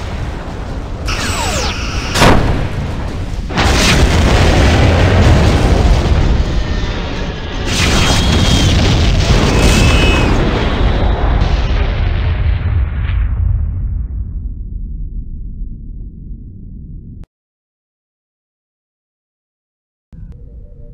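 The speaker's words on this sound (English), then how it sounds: "The ship has been destroyed." A starship blows up in Star Trek Bridge Commander with a Babylon 5 mod, a loud sustained roaring explosion with crackling bursts that rumbles on for about fifteen seconds before cutting to silence, then a faint tone.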